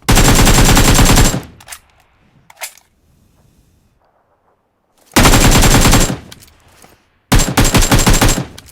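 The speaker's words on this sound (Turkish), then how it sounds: "Oğlum adam UMP ile bana nasıl vuruyor?" Sustained automatic bursts from a UMP submachine gun in the mobile battle royale PUBG Mobile: three loud, dense volleys separated by a near-silent gap, the first and last cut off abruptly.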